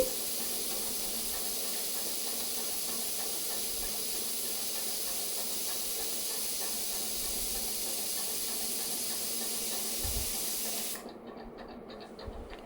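Water heating in a pot on the stove gives a steady, close hiss of steam and bubbling that runs for most of the stretch, then drops away abruptly near the end.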